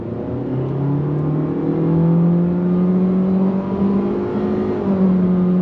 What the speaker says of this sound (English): But we're gonna see how this accelerates. Are you ready? On throttle, here we go.